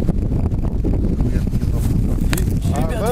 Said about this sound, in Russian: ветер страшный